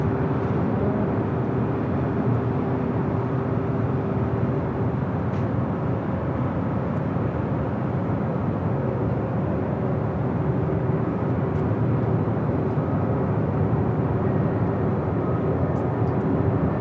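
An airliner on a flight from Boston arrives at Los Angeles International Airport, a steady, loud, broad engine roar with a low hum holding throughout and no talk.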